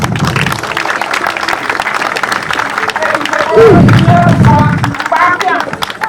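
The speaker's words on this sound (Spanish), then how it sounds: "Aplauda bem." People applaud in a courtroom, an ongoing patter of clapping hands with a heavy thump partway through and voices murmuring underneath.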